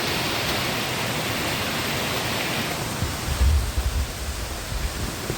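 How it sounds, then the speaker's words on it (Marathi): Heavy, continuous monsoon rain pours down in Mumbai during flooding, a dense, steady hiss with no break, and a few low thumps toward the end. "पाऊस काय थांबत नाही आहे, कंटिन्युअस पाऊस आहे."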